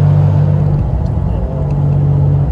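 TVR Tasmin driving with its Ford 2.8-litre six-cylinder engine, giving a loud, steady close-up drone with a low hum that holds level throughout.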